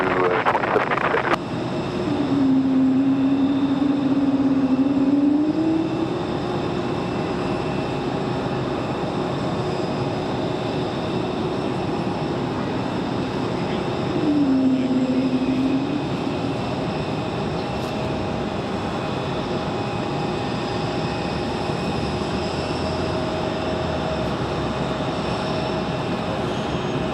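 Jet airliner taking off from runway 5 left at Raleigh-Durham International Airport, a steady broad engine roar held at a near-constant level throughout, with a few brief tonal whines rising above it.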